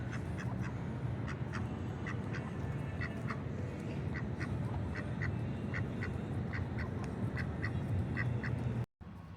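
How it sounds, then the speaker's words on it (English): A duck quacking repeatedly in a parking lot, a steady run of close, clear quacks over constant low traffic-like rumble, with a brief dropout near the end. "Duckies, geesies, quack, quack."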